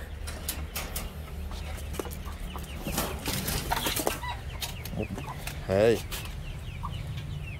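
Chickens cluck steadily around a farm henhouse where eggs are being collected from the floor and the coop, with a brief wing flap and a loud squawk near the end, while a person speaks briefly.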